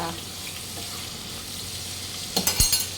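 Prawn biryani mixture with salt frying in a covered pan, a low steady sizzle throughout, then a few close clanks and taps of a lid or utensil near the end.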